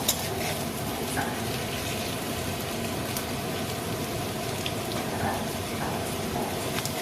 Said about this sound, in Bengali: আলুগুলো লাল হয়ে এসছে, আর একটু ভাজলেই হয়ে যাবে আলুগুলো ভাজা।